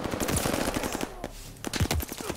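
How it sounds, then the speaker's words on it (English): Machine gun fire in the video game Call of Duty Vanguard, rapid close bursts of gunshots rattling loudly with a brief lull midway before the firing resumes. "I'm getting shot, but I can't tell where it's coming from"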